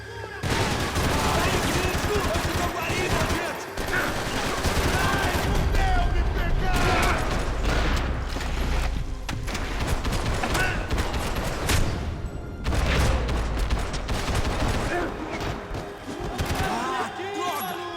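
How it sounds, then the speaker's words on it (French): Gunfire coming from above during a Max Payne 3 firefight: dense, continuous game shooting and mechanical clatter lasting throughout, loud, with voices talking over it. "Il y a quelqu'un qui tire d'en haut."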